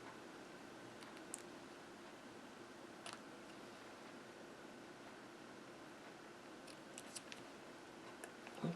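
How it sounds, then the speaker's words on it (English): Scissors snipping paper ribbon ends at a quiet craft table, a few faint, sharp clicks spaced irregularly over a soft background hiss. "I'll just use the scissors for this"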